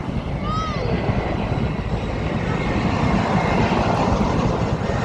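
A large IndiGo airplane passes overhead with a loud, steady roaring jet drone that fills the air throughout, while people talk nearby, outdoors near an airport approach.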